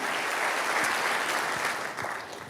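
Audience applause at a church or evangelistic preaching event, a dense steady wash of many hands clapping that fills the room, fading slightly toward the end.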